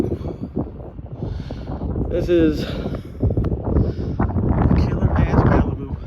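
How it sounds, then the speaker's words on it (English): Strong wind buffets the microphone outdoors, a constant rumbling roar beside a customized Chevrolet Malibu with an LS engine, while someone talks over it throughout. "I know it's windy out here"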